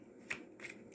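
Two quick riffles of a tarot card deck being shuffled, close and crisp against a quiet background.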